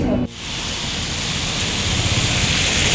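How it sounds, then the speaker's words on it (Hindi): Steady, dense rain falls during a bike trip through Uttarakhand, a loud continuous hiss filling the clip after a brief opening moment. "बारिश हो गई, yippoo!"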